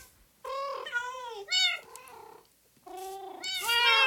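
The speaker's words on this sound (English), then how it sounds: "here we have an army of cats" Several Minecraft cats meow in bursts, high drawn-out mews following one another at close range, with a rising chorus of overlapping calls near the end.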